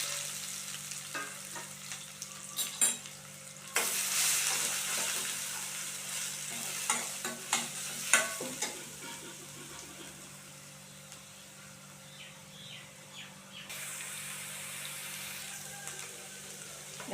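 Onions with green chilli sizzle and fry in a pan, with a steady hiss broken by bursts of stirring and scraping, close and fairly loud.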